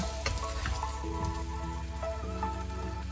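Pumpkin and pork stir-frying in a pan with a little added water, a steady close crackle and sizzle running throughout with no voices.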